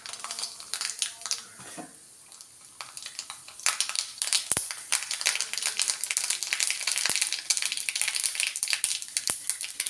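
Mustard seeds popping and crackling in about three tablespoons of hot coconut oil, a dense run of sharp, irregular pops and spits over a steady sizzle, growing busier and louder after a quieter start.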